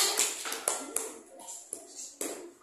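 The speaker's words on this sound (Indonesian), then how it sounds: "Tepuk tangan untuk hasil kaligrafi Inayah." A small group, likely classmates, claps for a finished calligraphy piece of Asmaul Husna. The clapping comes as a few sharp, uneven taps, fairly close and quiet, with gaps between the strikes.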